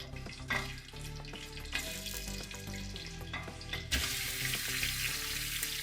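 Sizzling and frying as 1 kg of chicken goes into hot, well-fried masala for degi biryani, a steady crackle with stirring clatter that grows brighter and louder partway through, no voices.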